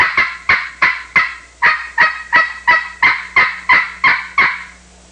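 A hand-operated turkey call sounds about a dozen loud, evenly spaced gobbling yelps in a steady rhythm, close and alone.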